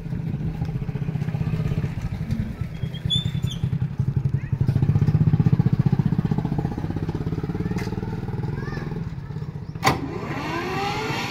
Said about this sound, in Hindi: ट्रैक्टर को स्टार्ट करके इसकी बात सुनवा दी